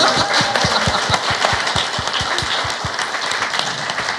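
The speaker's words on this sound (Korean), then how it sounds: "박수 부탁드립니다." Studio applause on a Korean political talk show, a loud, steady wash of clapping with sharp individual claps standing out near the mic, continuing throughout without talk.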